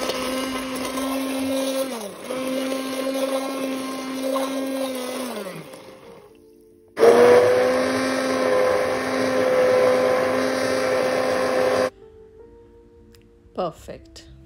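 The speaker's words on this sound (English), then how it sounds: "Blend this soup in the pot. Blend until smooth puree." Close and loud, an immersion blender whirs as it purees broccoli and green bean soup in a pot. Two long bursts, the motor's pitch dipping as it works, are split by a short pause, and a brief clatter comes at the end.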